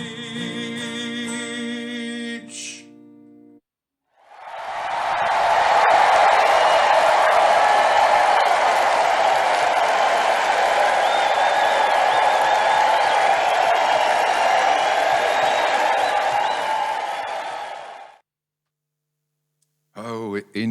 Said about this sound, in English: Oh, enough of the applause.